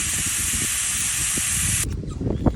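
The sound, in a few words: air hissing out of tire as valve core is removed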